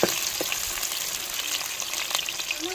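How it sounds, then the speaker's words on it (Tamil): Green chilies and onions sautéing in hot oil for a fish curry with dried fish, giving a steady close sizzle with small crackles and a few stirring scrapes throughout, no talking. "பச்சை மிளகா வெங்காயம் நல்லா வதங்கி வரட்டும்"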